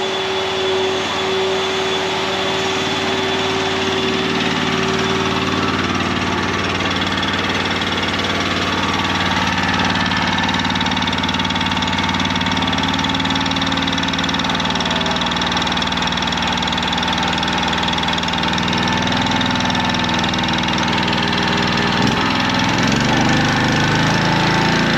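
Champion generator engine running steadily under load, a loud continuous mechanical drone with a constant pitch and a brief whine early on, heard close and alone.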